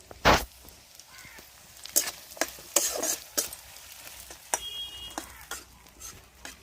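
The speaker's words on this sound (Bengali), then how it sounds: "গরম মশলাগুলো আমি তেলে দিয়ে দেবো।" Whole garam masala spices hit hot oil and fry, a close sizzle with crackles and pops, punctuated by several sharp clinks of a spoon against the pan.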